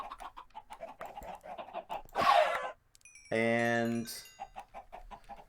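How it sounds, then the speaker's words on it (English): Chickens in a video game clucking in two short bursts, the second a sustained tonal squawk, set between stretches of someone talking over the game. "There's a bunch of chickens right here."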